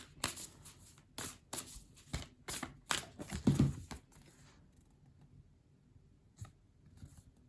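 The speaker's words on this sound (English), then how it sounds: "A little shuffle here." Tarot cards being shuffled in quick bursts of crisp riffles and taps, close and fairly quiet, then fading to near silence with an occasional soft tap.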